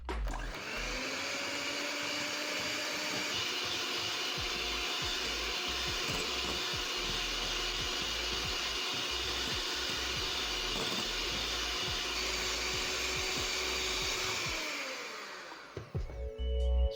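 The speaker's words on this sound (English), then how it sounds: "So I'm going to beat my margarine until pale white" An electric mixer beating margarine for frosting, a steady loud whirring drone with a faint rattle of beaters against the bowl, running continuously before winding down near the end.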